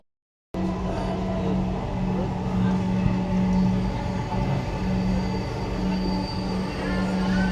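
Ride aboard a Dhaka metro rail train, a loud steady rumble of wheels and car noise with a sustained low tonal hum, heard from inside the carriage and starting abruptly after a short silence, with faint voices beneath.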